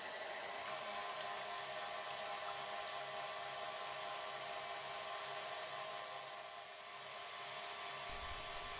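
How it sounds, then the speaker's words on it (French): An electric whisk whips mascarpone chantilly cream, a steady high whirring drone that runs continuously and fairly loud, with a brief dip in intensity near the end. "Montez la moitié de la chantilly mascarpone dans un robot ou à l'aide d'un fouet électrique"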